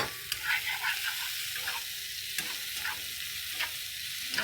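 Tomatoes frying in hot oil, a continuous close crackling sizzle with steady popping and occasional sharper spits, stirred now and then, with no talking over it.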